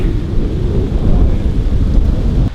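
Rain during a storm on a drive from Billings to Miles City, Montana, a steady heavy low rumbling wash with wind buffeting the microphone throughout.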